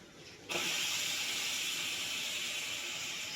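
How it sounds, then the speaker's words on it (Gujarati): A pressure cooker of boiled mung beans, set under a running kitchen tap, lets out its steam in a sudden loud, steady hiss that starts half a second in and holds at full strength, with no talking. "નળના નીચે કુકર મૂકી દેવાનું તો તરત હવા નીકળી જાય બધી"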